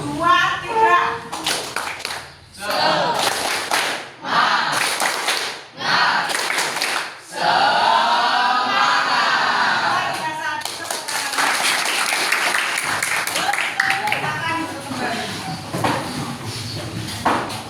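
A standing school class claps in a rhythmic spirit-clapping routine, bursts of sharp group claps alternating with short pauses, children chanting along, with an adult voice heard between rounds.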